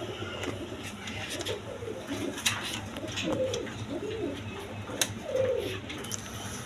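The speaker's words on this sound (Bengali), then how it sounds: "দর্শকবৃন্দ এখানে এক পেয়ার দেশি গোল্লা কবুতর আছে, দেখেন বিগ সাইজেরই ডিম নিয়ে বসে রয়েছে" A pair of desi golla pigeons sitting on eggs coo softly in repeated low, throaty phrases, fairly faint against a quiet background hum.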